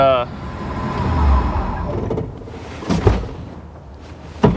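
A 1955 Chevy Nomad on its first drive in 30 years rolls in to park, its engine a loud, steady low rumble close by, then easing off, followed by a couple of brief clunks and knocks near the end.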